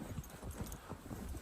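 Horses' hooves clip-clop at a steady, faint pace as riders travel up a mountain trail on an elk hunt, mixed with soft rustling and outdoor background noise.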